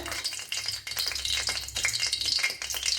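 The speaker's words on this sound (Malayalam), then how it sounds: "ഇവിടെ ഓയിൽ ഒഴിച്ചു കൊടുത്തിട്ടുണ്ട്. അതിലേക്ക് മുട്ട ഒഴിച്ചു കൊടുക്കാം." Egg poured into hot oil for an Indian egg masala crackles and sizzles steadily, with busy spattering and light rattling close by and no voices.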